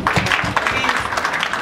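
An audience at an MMM South Africa offline event in Pietermaritzburg breaks into a brief burst of clapping, a close patter of hands alongside talking.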